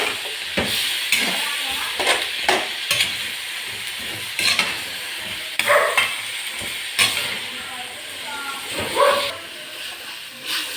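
Food frying in a pan is stirred with repeated scraping and clattering strokes over a gentle sizzle, close and uneven in rhythm across the whole stretch.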